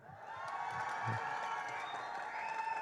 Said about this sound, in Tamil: உங்களுடைய பலத்த கரகோஷங்களோட let's welcome the smashing Surya on stage